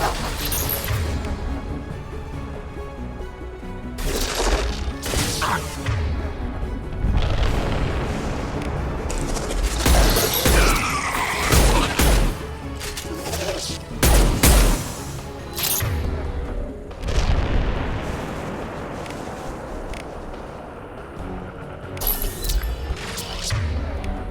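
Impact shot power strikes hitting enemies during a Mass Effect 2 battle at a defense tower, with repeated loud booming blasts and crashing impacts over a continuous rumble of combat.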